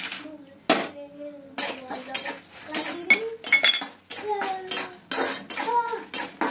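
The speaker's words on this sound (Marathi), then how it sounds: "2 मिनिटं फक्त थोडेसे परतून घ्यायचे." A pan holding mustard seeds, curry leaves and peanuts being sautéed, with repeated sharp metal clinks and scrapes of a spoon against it, close and fairly loud, in irregular bursts.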